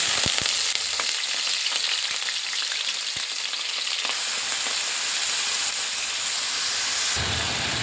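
Sliced potatoes and slit green chillies fry in hot oil in a pan, giving a dense, bright, continuous sizzle and hiss that stays loud and close for the whole stretch, with no talking.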